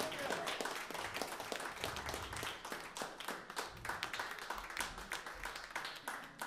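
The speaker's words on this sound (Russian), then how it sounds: "Ваши аплодисменты." Audience applause after a live concert performance, a dense mass of hand claps filling the hall steadily and evenly from start to finish, with some low rumble beneath.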